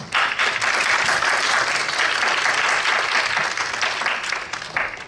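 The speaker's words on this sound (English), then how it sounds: "let's give Aram a round of applause" Sustained applause from a demo day audience greets a startup presenter, dense and steady clapping from a crowd filling the room at close range for about five seconds, easing slightly near the end.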